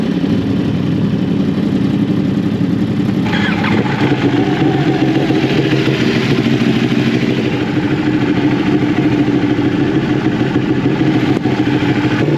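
A motorcycle engine runs steadily before a street ride in New Jersey, its loud, constant rumble close by and unchanging, with no talking over it.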